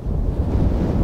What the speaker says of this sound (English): If the wind wasn't blowing, it wouldn't be such a bad day, but that breeze is frigid